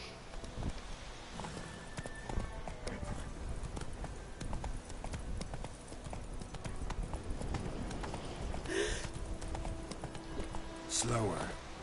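Roach the horse running in The Witcher 3, with fast rhythmic hoofbeats thudding steadily over game ambience while a voice speaks over the sound.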